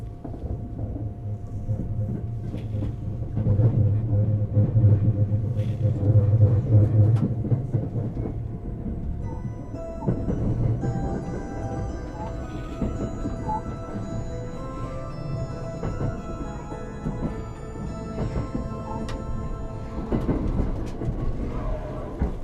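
The Thunderbird express train pulls out of Osaka with a low, steady rumble and rolling rail noise, swelling mid-stretch, as a faint chime melody plays over the on-board hum.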